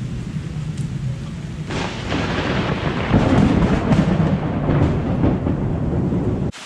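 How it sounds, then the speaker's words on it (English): Steady heavy rain from a thunderstorm in Singapore pours throughout while thunder rumbles and rolls nearby, swelling louder midway. "Right now, there is thunder all around us."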